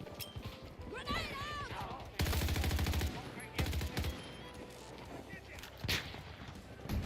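Video game firefight on a vertical multiplayer map, with dense bursts of automatic gunfire and sharp blasts from a grenade, loud and close, while voices call out over the shooting.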